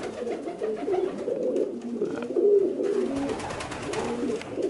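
A 14-year-old homing racing pigeon cooing, repeated low throaty rolling coos close to the microphone, with faint rustling between calls and no voices.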